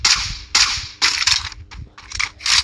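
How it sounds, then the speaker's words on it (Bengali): Sharp, loud bursts of video-game gunfire aimed at a car, fired in rapid clusters of crackling shots with brief gaps between volleys, no voices. "ওই গাড়িটা ফুটাতে যাচ্ছে, কিন্তু গাড়িতে গুলি লাগছে না"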